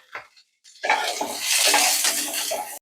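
Chopped beans frying in a pan for egg fried rice, a loud steady sizzle that bursts in after a short clink and a pause, with occasional stirring scrapes under the hiss.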